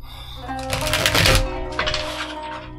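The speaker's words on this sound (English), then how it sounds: "So the tarot deck that I'm using is an unnamed deck, but it's got some cool artwork, and I'm just going to give them a quick shuffle." Quick riffle shuffle of a tarot card deck, a brief close burst of fluttering card flaps peaking in the middle, then a shorter second ripple, over faint background music.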